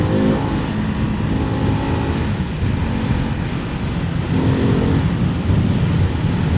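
Ducati Hypermotard 698 Mono motorcycle engine revving while riding, a loud continuous roar heavily mixed with wind rush, with slight surges in pitch throughout.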